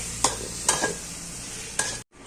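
Pork ribs stir-fried in a pan, with a steady frying hiss and a few sharp scrapes of the spatula against the pan, no voices.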